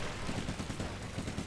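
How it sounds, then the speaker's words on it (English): A half-track's machine gun fires in a dense rattling stream of rapid shots in Blitzkrieg 3, a World War strategy video game, fairly faint and continuous with no talk. "that machine gun fire is gonna do work"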